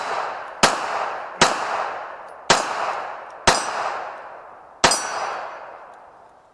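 Sig P320 X5 pistol shots ringing off steel targets, five sharp loud cracks at roughly one-second intervals, each followed by a long metallic decay.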